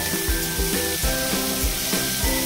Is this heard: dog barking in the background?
no